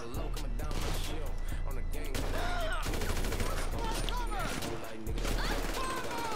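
Rapid gunfire rattles through a shooting video game, with dense overlapping bursts and single cracks filling the whole stretch at a loud, close level, a voice briefly audible beneath.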